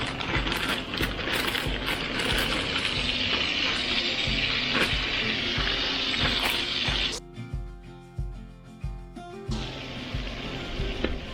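Onions and green beans sautéing in half a stick of butter and a tablespoon of olive oil, a steady close sizzle and crackle that drops away briefly before resuming, with no talking.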